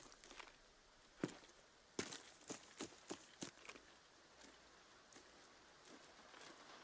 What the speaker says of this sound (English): Fucking love the rain.